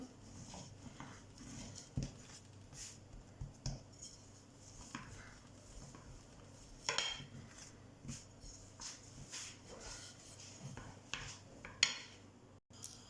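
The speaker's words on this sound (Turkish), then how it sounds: "Tezgahımı hafiften unluyorum. Çok az. Oklavayla inceltiyorum." Dough is rolled thin with a rolling pin on a lightly floured counter, producing faint, irregular soft knocks, taps and scraping rolls at close range with no speech.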